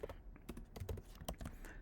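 Quick, quiet clicks of fingers typing on a computer keyboard, a steady irregular patter of keystrokes heard close up with no talking.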